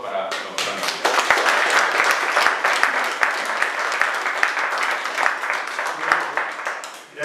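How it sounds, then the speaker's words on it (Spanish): Sustained applause from an audience at a tribute event honouring Blasco Ibáñez, dense, steady clapping running for about seven seconds with a few sharper claps standing out and brief voices mixed in. "Ahora, por favor, un aplauso para don Fernando Millán."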